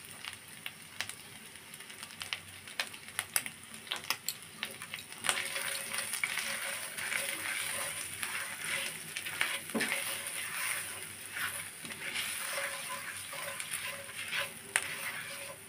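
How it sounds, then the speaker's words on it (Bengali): Spices and paste with turmeric powder frying in a pan for a pea dal, a quiet sizzle with scattered spoon clicks that thickens into a steadier frying hiss partway through. "সব কিছু দিয়ে আমি ভালোভাবে ভেজে নিব"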